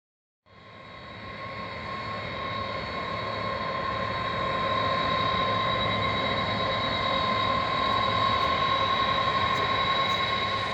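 DC-10 air tanker with a retardant tank system taxiing in at an airfield, a steady loud jet engine roar with a high whine that starts abruptly and slowly swells as the aircraft draws nearer.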